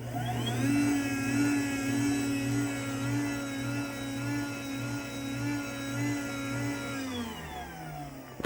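A steady vacuum-like motor whir from a LiftMaster 87504-267 garage door opener runs continuously at a constant pitch, then winds down and stops near the end.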